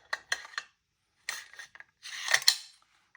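Bolt charging handle of a Noveske Ghetto Blaster airsoft rifle being fitted and slid into place during reassembly: a few quiet, sharp plastic-and-metal clicks in short bursts, then a louder scraping slide, with no talking.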